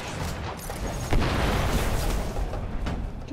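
Gunfire and explosions from the video game Destiny erupt in a loud, dense burst of booms and crackling blasts that swell and fade over a few seconds.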